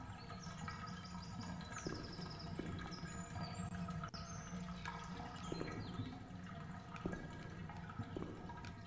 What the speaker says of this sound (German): Das Wasser ist aufgedreht.